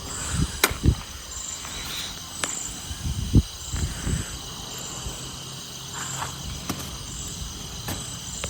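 Crickets and other insects chirp steadily at night in a dark outdoor spot during a trip, with high buzzing trills running throughout, a few sharp clicks and soft low thumps nearby, and no talking.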